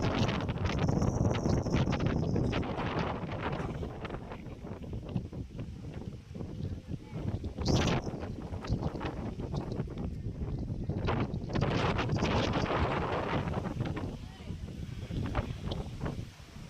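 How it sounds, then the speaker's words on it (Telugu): Strong wind buffets the microphone outdoors at the Ahobilam Lakshmi Narasimha temple hills, a continuous loud roar and rumble with gusts, while people talk over it. "గాలి ఎక్కువ పెడుతుంది."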